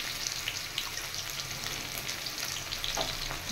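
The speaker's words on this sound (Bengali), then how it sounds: "পেঁয়াজটা একটু ফ্রাই করে নেব।" Chopped onions frying in a pan with cumin, dried chilli and bay leaf, giving a steady, dense sizzle with faint crackles throughout and no talk.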